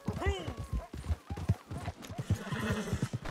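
Rhythmic hoofbeats of a horse in Red Dead Redemption 2 Online clip-clop close by, with the horse neighing and snorting over them, while a person talks underneath.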